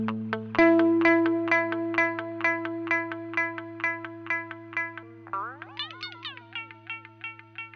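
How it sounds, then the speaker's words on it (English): Clean electric guitar notes pass through the airwindows Tape Delay 2 plugin, a warm analog-style tape echo, with picked notes trailing into a steady run of decaying repeats, then a wobbling, bending phrase with more echoes. "Tape delay 2 has a warm kind of analogical sound."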